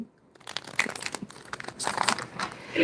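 Tarot cards being shuffled by hand, a quiet irregular run of soft crinkling and riffling rustles close to the microphone, growing slightly denser toward the end, with no talking.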